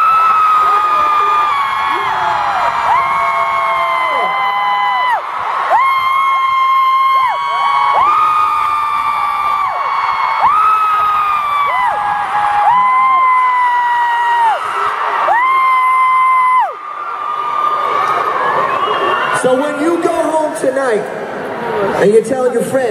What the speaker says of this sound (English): we want you to scream as loud as you possibly can